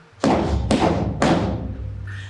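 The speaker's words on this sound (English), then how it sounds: "With this, she banged loudly upon the door." Three heavy, booming thuds of a staff struck against a great door at the gates of the underworld, evenly spaced and loud, each blow ringing out before the next.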